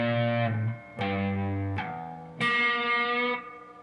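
A slow electric guitar part, played with distortion: four separate strikes of notes and chords, each sustaining for about a second before the next, loud and unaccompanied.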